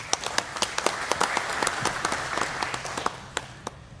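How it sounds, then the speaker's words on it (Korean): At a forestry management association gathering, an audience gives a round of applause for three new division heads, with dense, fairly even clapping from many hands throughout, heard from a moderate distance in a hall. "우리 산림경영협회를 앞으로 이끌어 주실 세 분의 본부장님께 다시 한번 큰 박수."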